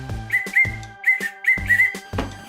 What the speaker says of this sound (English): I think it's a whistle.